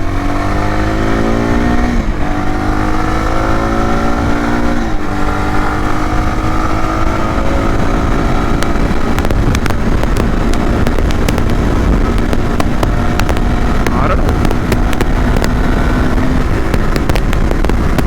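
A Yezdi Adventure motorcycle accelerates hard on an open road, its engine note climbing through the gears under heavy, constant wind roar, loud and close from the rider's position with no talk.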